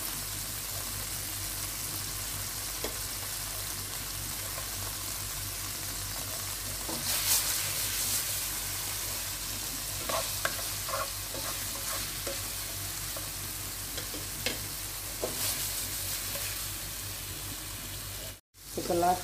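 Wild garlic (bärlauch) frying in a pan for a tauco and shrimp dish, a steady crackling sizzle with scattered scrapes and clinks of stirring, close and moderate, ending in a brief gap and a clatter.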